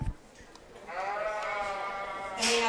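Sheep bleat in a county fair show ring, one long, wavering, drawn-out call up close, with an announcer's voice faintly around it and a brief noisy burst at the end.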